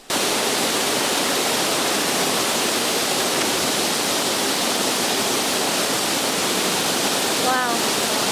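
A steady, loud rush of falling water from a waterfall in Juayúa, El Salvador fills the whole clip, a dense broadband roar with no pauses.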